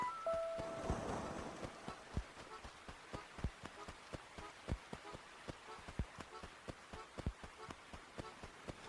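Steady rain patters in Animal Crossing: Wild World, with a soft hiss under a run of regular, evenly spaced taps like footsteps, all at moderate loudness.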